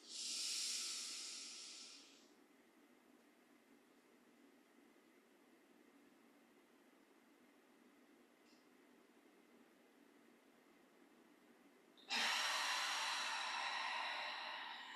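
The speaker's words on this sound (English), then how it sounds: "breathing in nice and deep." Deep breathing during a guided relaxation exercise: a loud, close breath at the start fades away, followed by quiet, and then a second strong, airy breath near the end, with no talk.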